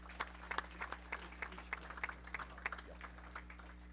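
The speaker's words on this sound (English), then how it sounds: "How about a nice round of applause for Mike Mastovich?" Sparse clapping at a luncheon, faint and thin, individual claps audible over a low steady electrical hum throughout.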